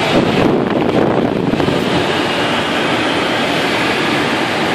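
Steady, loud wind roars across the microphone throughout a small aircraft's landing approach, a continuous broadband rush with no pauses or voices.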